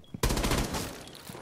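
Rapid automatic gunfire in a Rainbow Six Siege match crackles out as one loud, dense burst of shots that starts abruptly and tapers off over about a second, with no talk over it.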